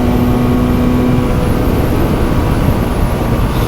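A 2023 QJMotor SRK400 naked motorcycle cruising in 5th gear, its steady engine drone blended with heavy, constant wind rush from strong airflow, loud and unbroken throughout.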